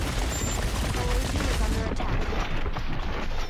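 Dense, continuous video-game gunfire and explosions from the sci-fi strategy game Cepheus Protocol, loud and overlapping with booming impacts, while a player talks over it.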